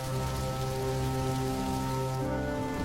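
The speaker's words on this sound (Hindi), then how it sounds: "जोरदार बारिश भी होने लगी।" Heavy rain falls in a steady, dense hiss that stays constant throughout, with a low tonal hum beneath and no voices.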